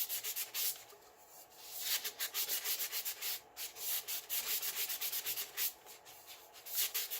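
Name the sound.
sanding epoxy-coated glitter tumbler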